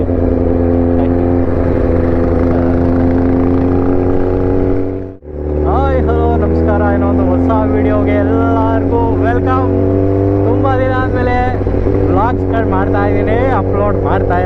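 A Yamaha RX100 and a 10R motorcycle ride along, a loud, steady engine drone with a brief dip midway, then a constant hum continues under a talking voice.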